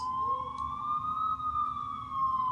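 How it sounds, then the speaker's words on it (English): A wailing police siren rises and falls steadily, sounding far off with a faint low rumble beneath and no voices. "I finally heard sirens in the distance"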